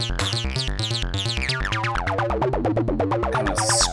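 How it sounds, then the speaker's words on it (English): Acid bassline from a modular synth module modeled on the Roland TB-303, a fast repeating sequence of squelchy, resonant bass notes with a filter sweeping open and closed, loud and alone. "Acid is my take on the classic Roland TB303 bassline"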